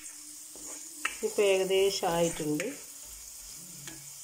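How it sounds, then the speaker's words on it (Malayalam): Garlic frying in oil for chutney powder keeps up a steady low hiss, with a person briefly talking over it in the middle. "ഈ എണ്ണയിലേക്ക് നമുക്ക് വെളുത്തുള്ളി വറുത്ത് കോരാം."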